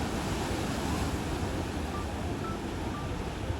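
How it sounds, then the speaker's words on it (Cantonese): Big ocean waves and strong wind at Shek O on the Hong Kong coast make a loud, unbroken roar of surf with wind buffeting the microphone, and no one speaks. "但係超級大浪、超級大風"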